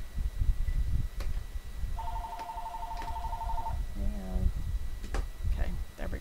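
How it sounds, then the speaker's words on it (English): An office telephone rings twice in a steady electronic double trill, fairly close and clear, with background murmur and a brief voice before and after it. "got to have the phone ringing"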